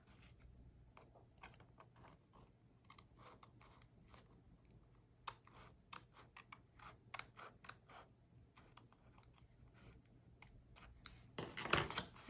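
Scissors trimming material for an Easter basket: a series of small, quiet snips and clicks at close range, irregular in rhythm, with a louder rustling burst near the end and no talking.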